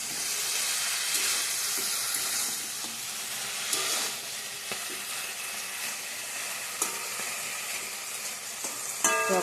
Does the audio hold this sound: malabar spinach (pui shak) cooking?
yes